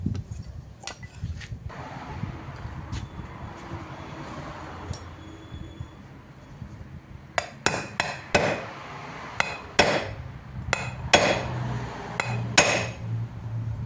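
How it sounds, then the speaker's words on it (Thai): Sharp metallic hammer strikes ring out against a tight, rusted bolt on a Kyoritsu SHP800BS, sparse at first and then in a quicker series of loud, clanging blows against metal. "เดี๋ยวเราจะตอกน็อตตัวนี้ออกมาให้ดูกัน"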